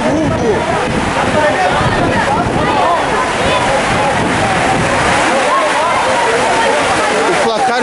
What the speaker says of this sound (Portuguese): Cara, temos uma cachoeira no estádio, olha isso, cara.